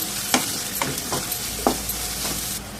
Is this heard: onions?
yes